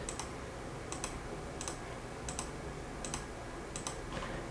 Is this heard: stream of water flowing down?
no